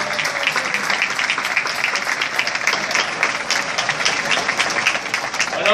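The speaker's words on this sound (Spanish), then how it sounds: "Un aplauso para este bailante de capa." An audience claps for a cape dancer at a student tuna performance by the engineering school's tuna group from Madrid. The applause is full and sustained from a crowd, with faint voices mixed in beneath it.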